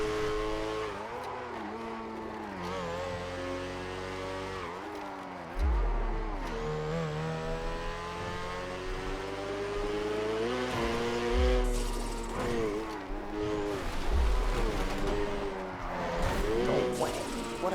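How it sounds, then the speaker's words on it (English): Video game F1 race car engine with harmonic revving that rises and falls through gear changes, tire squeal and mechanical clicks, playing steadily with music-like tonal layers and occasional talk in the background. "Change the sound of this car."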